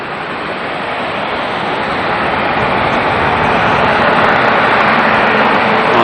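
An ATR twin-turboprop airliner at Auckland Airport gives a loud, steady, broadband engine roar that swells gradually over several seconds, heard fairly close with no voices.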